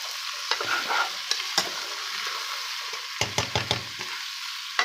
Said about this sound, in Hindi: बस अब इनको अच्छे तरीके से हमने दोनों चीज़ों को बुनाई करनी है इसकी।